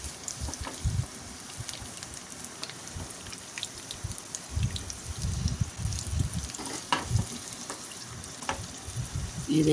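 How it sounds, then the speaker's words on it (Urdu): Green chilies fry in oil in a karahi for white chicken karahi, giving a steady, close crackling sizzle with scattered pops and a few low thuds throughout, with no talking. "یہ دیکھیں ماشاءاللہ سے بالکل فرائی ہو چکی ہیں مرچیں"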